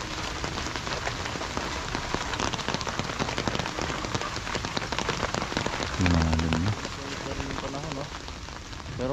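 Steady rain falls on a farm, a dense patter of drops on surfaces throughout, with a brief low hum near the end.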